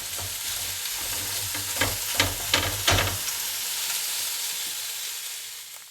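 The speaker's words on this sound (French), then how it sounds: "on va faire revenir encore quelques minutes. Donc 2-3 minutes. Vous mélangez bien" Veal browning in a pan with garlic and bay leaves, a steady close sizzle with a few louder scrapes and clacks of stirring in the middle, no voices.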